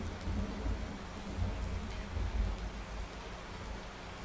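Heavy rain falls steadily in a farming simulation game, a dense, even hiss with low rumbling swells like distant thunder, heard quietly on its own without speech.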